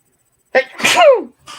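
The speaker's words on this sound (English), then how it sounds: "I'm going to sneeze again." A single close, loud human sneeze indoors with a sharp intake and a bursting release, followed by a brief faint noise; no talking.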